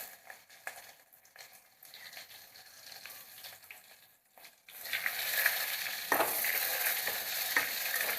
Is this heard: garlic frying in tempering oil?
yes